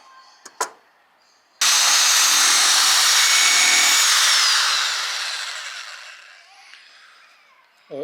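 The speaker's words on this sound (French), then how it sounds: "j'utilise cet outil très pratique pour usiner et poncer un petit peu l'intérieur" Power tool with a hole-saw style bit machining and sanding the inside of small wooden circles: a couple of brief knocks, then a loud whirring grind starts abruptly and winds down gradually over several seconds.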